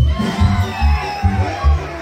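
Audience at a live concert in South Carolina shouts and cheers together in loud bursts, with rhythmic low thumps pulsing underneath the crowd noise.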